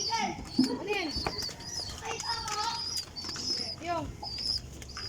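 Pigeons coo and chirp close by, with repeated soft calls and wing flutters scattered across a few seconds, while a person speaks briefly among them.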